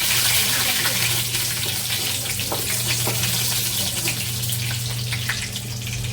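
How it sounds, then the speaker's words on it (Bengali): Mustard seeds frying in hot oil with a steady close sizzle and scattered crackles and pops, plus a faint low hum beneath. "সরিষা দিয়ে দিলাম একটু ঘুটনি দিয়ে ভেজে দেবো"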